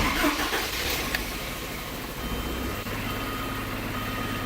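A 1984 Porsche 944 NA engine starting from the driver's seat, a brief cranking burst at the start that settles into a steady low rumbling idle for the rest of the clip.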